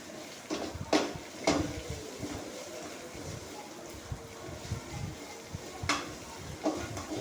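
Onions with ginger garlic paste are sautéed in a pan for a goat tripe pepper fry. A soft sizzle runs under sharp scraping stirs of a spoon against the pan, which come every few seconds.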